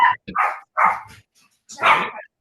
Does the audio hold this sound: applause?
no